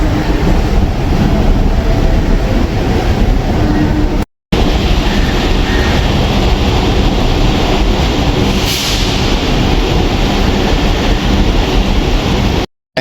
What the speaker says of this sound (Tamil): சென்னை பீச் போற ட்ரெயின் ஸ்டார்ட் ஆயாச்சு.